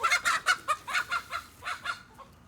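Chickens burst out of a backyard coop in the morning, giving a rapid run of loud, close clucks and squawks with fluttering that slows and fades after about two seconds.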